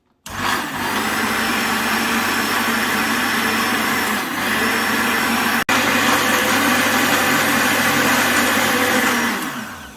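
An electric blender whirs loudly and steadily through a caramel ice cream mixture, starting almost at once, with a brief click midway, then winding down near the end.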